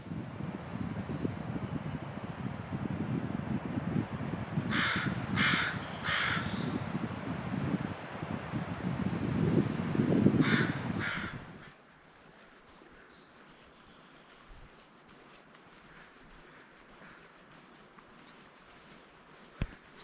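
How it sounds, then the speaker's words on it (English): An American crow caws from the top of a tree in woods at a preserve near LaConner, Washington. Two short bursts of a few caws each ring out, moderately distant, over a low steady rumble of wind and surf. "there was just an American crow up at the top of that tree"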